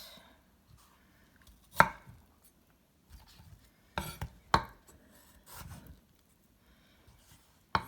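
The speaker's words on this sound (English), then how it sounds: "I'll cut off the ends of the peel while I'm doing that." Knife slicing an apple on a cutting board, a few sparse sharp chops and scrapes separated by quiet gaps, soft and close.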